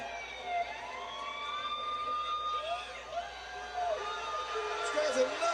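An ambulance siren wails continuously, rising and falling in sweeping tones from close by. It plays over crowd noise at a WWE Raw wrestling event, with voices underneath.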